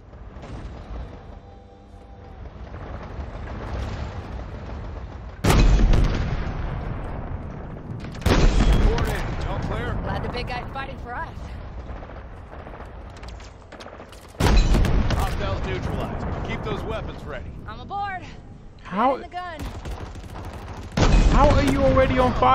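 Scorpion tank cannon blasts in the shooter Halo Infinite: five loud, sharp booms spaced several seconds apart, each decaying into rumbling battle noise and scattered gunfire, with a voice shouting between them.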